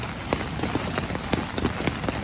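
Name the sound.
rain starting at campsite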